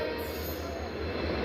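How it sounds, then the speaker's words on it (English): A train locomotive passes on the railway at Khardaha, a steady, loud, continuous rumble with a deep low hum and wheel-on-rail roar holding evenly throughout. "Rail fans are addicted to this locomotive."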